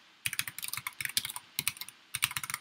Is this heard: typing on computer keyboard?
yes